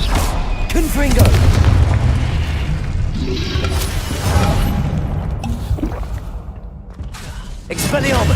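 Confringo fire spell exploding in Hogwarts Legacy combat, deep booming blasts and crackling bursts, loud with shifting intensity, mixed with other game effects and a voice speaking.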